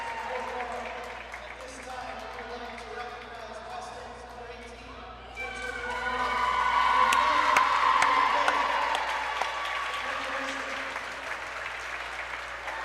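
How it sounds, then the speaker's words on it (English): A crowd in a school gym at a junior varsity basketball game cheers and applauds. The noise is moderate at first, then swells into a loud, sustained roar with whoops and scattered shouts. "everybody cheering for her here in the gym"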